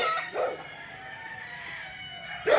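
Chickens and roosters on a poultry farm beside a highway bypass in Bauang, La Union, crowing in a dense flock, with a sustained background of calls and louder bursts near the start and end.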